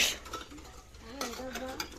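Metal pots and utensils clink and clatter in a short burst of dishwashing, with a few ringing tones near the end.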